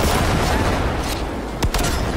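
Shotgun fire in the video game Cyberpunk 2077, a dense burst of booming blasts over continuous loud gunfire and noisy combat, with a sharp crack near the end.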